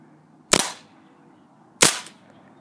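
Two sharp snapping shots about a second apart from a Maruzen Walther PPK/S airsoft pistol firing BBs into cans, each crack short and bright with a quick tail over quiet background.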